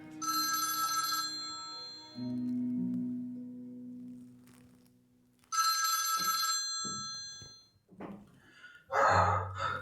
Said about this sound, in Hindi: आपका फोन बज रहा है शायद।